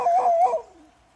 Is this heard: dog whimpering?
yes